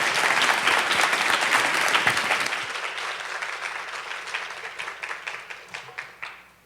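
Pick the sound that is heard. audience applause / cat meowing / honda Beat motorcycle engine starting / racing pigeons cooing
audience applause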